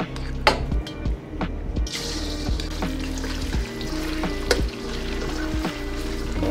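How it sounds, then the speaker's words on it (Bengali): Cut chicken pieces frying in a pan for chicken fried rice in a dhaba kitchen: a steady loud sizzle, with clatter and clinks from the pan and utensils and a humming kitchen behind. "চিকেনটা আমরা একটুখানি ফ্রাই করে নেবো"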